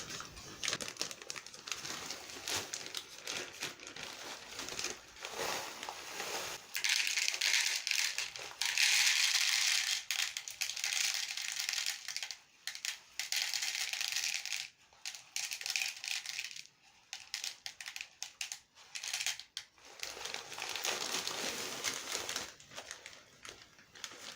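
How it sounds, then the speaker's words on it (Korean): Medium-grain decomposed granite gravel pours and rattles into the bottom of a plant pot while a pothos is repotted. Gritty crunching and sifting runs steadily for several seconds, close and fairly loud, then tapers into scattered bits. "먼저 어, 마사토 중립을 바닥에 깔도록 하겠습니다"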